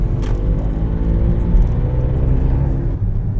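A Toyota Aygo drives along quiet UK roads at night, its engine and road noise forming a steady, loud cabin drone that holds throughout.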